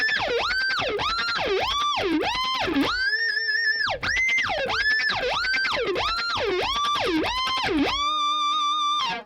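Electric guitar riff, played fast through an effects unit with distortion: rapid repeated pitch-sweeping notes alternating with held chords, loud and steady, alone.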